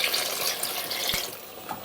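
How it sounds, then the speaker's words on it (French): Water pours over turned courgettes and mushrooms with lemon juice in a pot, a brief, close, rushing splash that runs steadily and fades slightly near the end. "Je couvre d'eau à hauteur."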